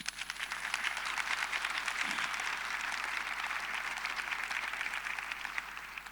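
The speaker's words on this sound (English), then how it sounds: "please give yourselves a round of applause" Summit delegates at a closing plenary clap together in a steady, dense wash of applause that holds at an even level throughout, heard at a moderate distance in a large hall.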